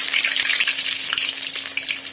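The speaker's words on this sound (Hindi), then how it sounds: "अभी समोसे भी फ्राई करते" Samosas deep-frying in hot oil give off a loud, steady sizzle with crackling spatters throughout, close up and with no voices.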